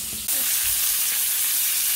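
A deer roast sears and browns in a hot pan. A steady, dense sizzle starts abruptly and holds, close and loud, with no voices.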